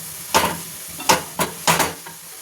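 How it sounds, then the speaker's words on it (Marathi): Grated carrots cooking in a pan, with a low sizzle beneath four distinct scraping strokes of stirring, each brief and close, spaced irregularly. "गाजर चांगलं शिजवून घेऊ, जसं एरवी आपण गाजर शिजवून घेतो ना हलव्यासाठी"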